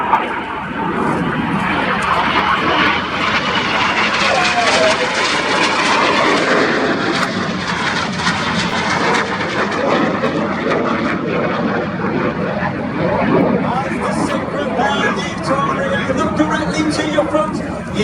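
Red Arrows jets fly an air display, performing a barrel roll, a close crossing and inverted flight, a loud broad jet roar rising and fading continuously while a commentator talks over a crowd.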